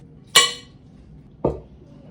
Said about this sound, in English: So I'm just taking tongs right now and scooping out a bunch of stuff.